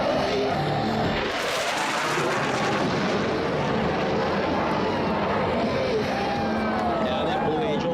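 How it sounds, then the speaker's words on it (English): Blue Angels tactical jets pass at high speed over San Francisco during Fleet Week, a loud continuous roar that holds steady throughout with a broad rushing swell and no voices. "you see firsthand the ability of a tactical jet at high speed to sneak into a target area virtually undetected"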